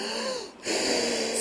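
A voice imitates wind blowing in a children's song, a breathy whooshing exhale that dips briefly and then swells back, close and fairly loud with no words.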